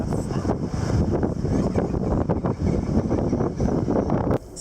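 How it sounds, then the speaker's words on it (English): Strong wind buffets the microphone at sea off Cozumel in a steady, loud roar, with gusty low rumble and a hiss of rough surf, cutting off abruptly near the end. "Just so windy, the surf's so rough."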